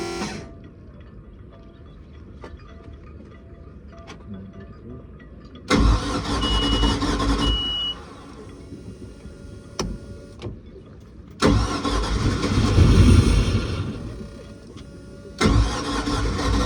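Starter on a project boat's engine cranks in three separate loud bursts, the motor catching and running rough on the attempts before cutting out, with quiet gaps between.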